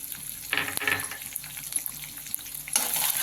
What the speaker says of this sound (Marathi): चांगलं ह्याला परतून घेऊ